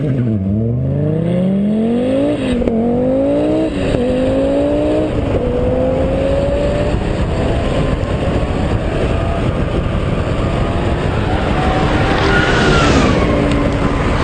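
An Audi Group B Sport Quattro rally car with 420 brake horsepower drag races a modern A1 Quattro, engines revving hard through rising gear changes, loud and close under a steady roar with no talk.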